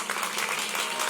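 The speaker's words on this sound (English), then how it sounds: "big round of applause to our partners" A crowd applauds at an outdoor streetcar line grand opening ceremony in Kansas City, a short steady burst of dense clapping at a moderate distance.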